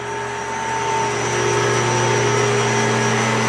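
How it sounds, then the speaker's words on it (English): A vacuum pump supplying suction to the sap lines of a maple sugar bush with about 7,000 trees, giving a loud, steady mechanical whine and hum close by, alone with no talk. "right here we have a vacuum pump that creates all the suction for the line down the sugar bush"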